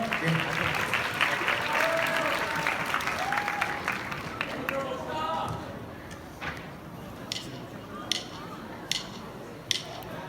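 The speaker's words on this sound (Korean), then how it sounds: "큰 박수로 맞이해보도록 할게요" Audience applause welcoming a student performance at a freshman orientation event, a crowd clapping loudly at first and then thinning to a few scattered claps, with voices murmuring underneath.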